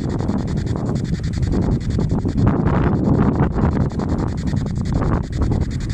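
Wind buffets the microphone continuously, a rough low rumble with gusty swells and outdoor rustling, no clear voices.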